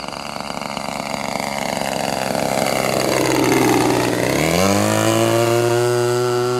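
Hangar 9 Ultra Stick RC plane with a Turnigy TP31-T 31cc twin-cylinder gas engine drones steadily in a slow flyby, its buzzing pitch sliding downward as it passes and recedes.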